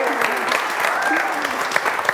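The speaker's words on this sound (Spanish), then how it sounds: "que los aplausos como que le dan acá más, le echan candela" Audience applause at a live cultural TV show game, steady crowd clapping at moderate level, with a voice speaking faintly underneath.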